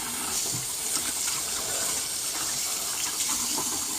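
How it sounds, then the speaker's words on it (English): Pork ribs being rinsed under steady running water in a kitchen sink, a continuous close splashing gush with small irregular spatters, alone without talk. "So I'm going to rinse them off one more time and give them a good rinse."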